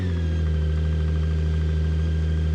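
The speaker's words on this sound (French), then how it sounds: "quand même démarrer le moteur, ce serait dommage" A BMW K 1600 GTL motorcycle's six-cylinder engine runs close by just after starting, settling into a smooth, steady idle hum with no voices.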